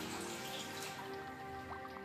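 Water drips and trickles from a wet cloth being wrung out during a home naturopathy fever treatment, a faint steady patter with soft splashes and no voices.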